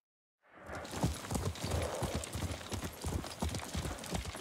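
Horse hooves clip-clop steadily at a brisk gait in the Ghost of Tsushima video game, a dense run of close, rhythmic hoof strikes with a faint whinny and no talk over them.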